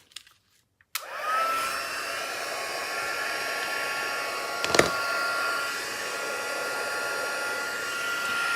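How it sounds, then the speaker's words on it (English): Heat tool switches on with a click, then blows hot air in a steady, loud whine that continues throughout, with a brief bump midway. "grab that, my heat tool"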